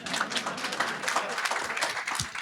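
Sustained crowd applause, many hands clapping in a dense, even patter throughout, fairly loud and unbroken.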